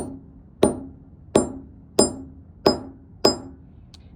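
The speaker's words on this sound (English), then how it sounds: "I'm going to take a hammer, and I'm going to take my jump rings, and I'm just going to hit them once gently, maybe twice" Steel wire jump rings are struck by a hammer in five evenly spaced, crisp metallic taps, each ringing briefly before fading, loud and close in a quiet room.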